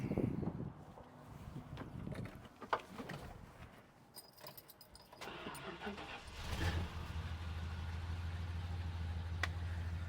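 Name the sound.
1974 Dodge Monaco engine cold start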